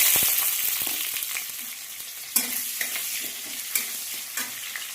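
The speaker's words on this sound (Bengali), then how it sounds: "পেঁয়াজ লাল লাল করে ভাজা হয়ে গেছে" Onions fry in oil in a pan after a cumin tempering, a dense steady sizzle running throughout with sharp clicks and scrapes of stirring scattered over it, close and with no talk.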